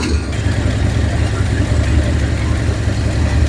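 A warm engine idles steadily with its Holley carburetor choke fully open, a loud, even low rumble that holds at a constant RPM throughout with no revving.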